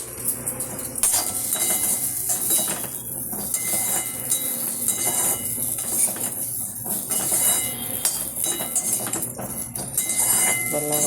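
Grated coconut being dry-roasted and stirred in a pan for Tamil coconut powder, with a little groundnut oil added, giving a steady, close scraping and clinking of utensil on metal with sizzling hiss throughout and no talking.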